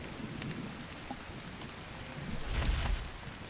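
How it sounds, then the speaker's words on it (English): Rain falls in the survival video game Ark Survival Ascended, a soft, even patter of drops with a faint low rumble swelling near the end. "It sounds like it's raining."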